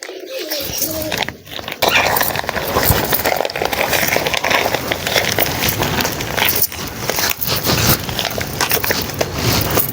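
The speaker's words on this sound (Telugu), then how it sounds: "గ్రో బ్యాగ్ తీసేద్దాం" A plastic grow bag is pulled off a potted plant with continuous loud crinkling and rustling of plastic, close and steady for most of the clip after a brief quiet start.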